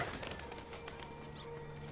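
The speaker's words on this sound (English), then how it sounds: "Pigeons!" Pigeons cooing in a city street in Detroit: Become Human, soft low coos over quiet ambient background with a few faint rustles.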